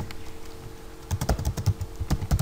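Typing on a computer keyboard, close and crisp, with an irregular run of key clicks that starts quietly and then comes in bursts, no talk.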